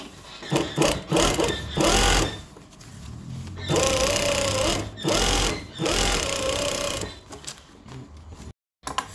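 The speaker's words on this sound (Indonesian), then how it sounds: "Kita jahit setapak." A sewing machine stitches along folded batik fabric with a fast, steady mechanical chatter that runs in several long bursts with brief pauses between, close and loud.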